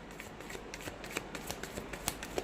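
A deck of tarot cards shuffled by hand, giving a steady, close riffling patter with light clicking snaps at irregular intervals.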